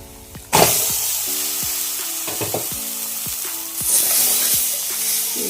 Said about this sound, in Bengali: এবার আমি ম্যাগিটা এর ভিতরে দিয়ে নিচ্ছি।